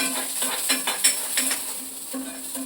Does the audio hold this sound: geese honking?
no